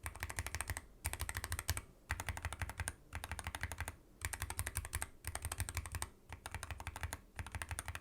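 Typing on a Wooting keyboard fitted with Lekker V2 switches, under clear keycaps: short, fast bursts of crisp keystrokes separated by brief pauses, about seven runs, close and isolated.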